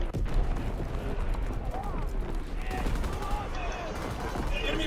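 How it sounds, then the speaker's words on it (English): Continuous gunfire and explosive battle noise from Call of Duty: World War II, with incoming enemy artillery fire, staying loud and dense throughout, while a voice speaks faintly underneath. "Incoming enemy artillery. Get to cover."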